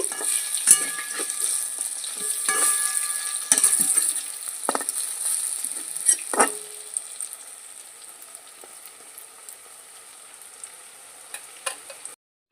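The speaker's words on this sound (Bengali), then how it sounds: "বড়াগুলো আমি এখন উল্টে নিচ্ছি" Lentil fritters (bora) sizzle steadily in hot oil in a pan, with a few sharp clacks and scrapes as they are flipped, the frying hiss continuous and fairly close throughout.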